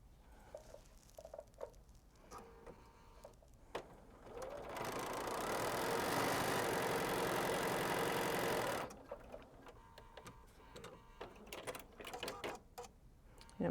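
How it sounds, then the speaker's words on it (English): A sewing machine stitches a quilt triangle piece in one continuous run of fast, even whirring of about four seconds, after quieter handling and rustling before and after it. "I'm going to sew it to the bottom."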